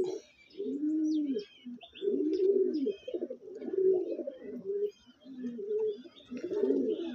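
Andhra pigeons coo in repeated rounded, rolling phrases, one after another with brief gaps, close and fairly loud, with faint chirps above and no talk.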